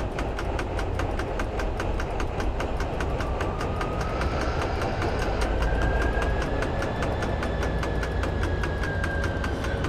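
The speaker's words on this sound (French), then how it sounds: "Notre moteur est lancé" An A1A-A1A 68500 diesel locomotive idles in Train Simulator 2018, a loud, steady rumbling drone with a fast, regular knocking pulse running throughout and a faint rising whine partway through.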